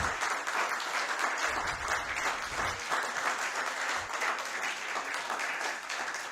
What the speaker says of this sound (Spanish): a quienes pido se pongan de pie para que les retribuyamos con un fuerte aplauso